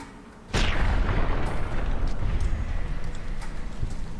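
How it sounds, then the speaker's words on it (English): Incendiary grenade exploding in Fallout New Vegas: a sudden loud blast hits after a brief quiet, then a sustained crackling, rumbling roar of fire continues to the end. "Turns out an incendiary grenade is a good way of solving a lot of life's problems."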